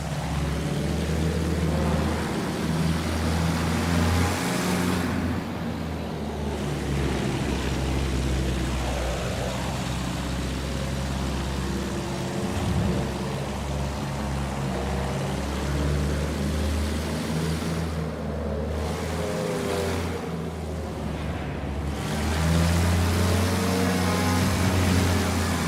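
A vehicle engine held at open throttle in the video game Battlefield 1, a steady loud droning roar that holds constant throughout with slight rises and dips, no talking over it.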